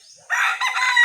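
A broodcock rooster lets out a single close, clear crow after a brief quiet moment, its strained call rising and holding until the end.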